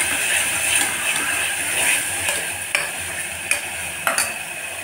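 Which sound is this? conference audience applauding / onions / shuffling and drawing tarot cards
onions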